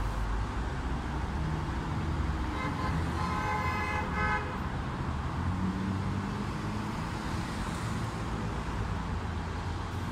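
Busy Beirut street traffic: a constant roar of passing cars and engines, with a clear run of car horn toots standing out midway, fairly close and loud.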